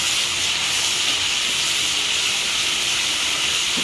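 Ginger paste and cumin sizzle in a hot pan with a steady, loud, unbroken hiss that never lets up, close and alone without any talk.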